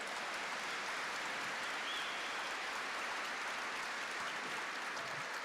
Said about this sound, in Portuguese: Pode aplaudir, você precisa ir, você precisa ir.